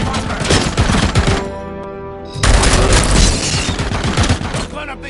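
Rapid, loud gunfire bursts in the Robocop video game, dense and continuous apart from a brief lull in the middle, with heavy booming impacts under the shooting.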